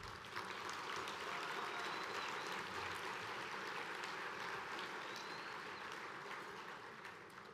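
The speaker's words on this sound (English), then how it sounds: "Let's give her a heartfelt round of applause as well." At a disaster-relief organisation's annual address, an audience claps steadily for about seven seconds, picked up faint and distant, the sound staying even before tapering slightly at the end.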